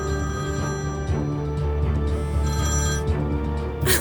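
A telephone rings steadily, its tonal ringing running continuously under a dramatic musical score in a drama scene.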